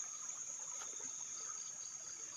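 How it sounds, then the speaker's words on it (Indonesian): A small forest stream trickles softly and steadily, a faint continuous watery wash under a thin high whine of insects, with no voices. "Ini ada sungai kecil."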